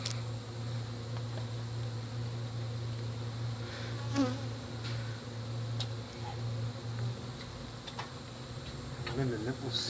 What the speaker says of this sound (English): I don't know how many bees are up in that light up there.